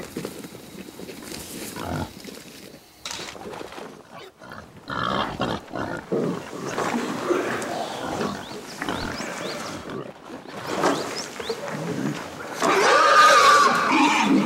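A wild boar sow and her piglets, seven animals in all, grunt and squeal as they hurry away from a reservoir in a deep mountain forest. The sounds are scattered and uneven, growing louder toward the end.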